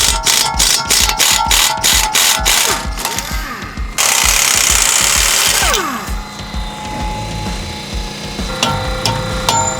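Rapid bursts of a pneumatic impact tool zapping suspension bolts off a car during a coilover swap, loud and close, with ratcheting metallic clatter and a brief high hiss partway through.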